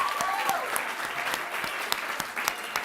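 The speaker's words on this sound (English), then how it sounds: "I'd like to give you a round of applause" Audience applause at the Information is Beautiful Awards ceremony, dense sustained clapping from a crowd filling the room, steady and fairly loud throughout.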